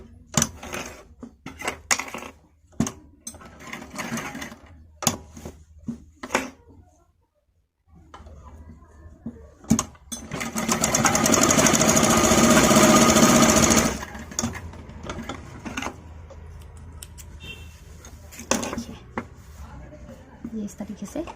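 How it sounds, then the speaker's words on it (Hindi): A sewing machine stitches the edge of a baby's A-line frock in loud, steady bursts of whirring, with pauses between runs and a person talking at times. "किनारे सिलाई लगा लेंगे इसके।"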